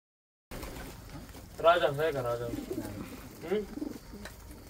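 Soft pigeon cooing in short rounded phrases, close by, mixed with faint background voices.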